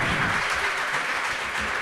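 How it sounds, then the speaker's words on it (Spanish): An audience at a poetry slam in Iruñea applauds poet Circe with steady, dense clapping that holds at an even level throughout, with no voices over it. "Un aplauso para Circe"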